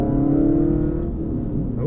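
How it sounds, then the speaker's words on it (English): A car with a loud aftermarket exhaust revs somewhere up the road, its deep rumbling engine drone steady and prominent throughout, swelling slightly near the end, with no talking. "it sounds like a car with a fart can on it right up the road"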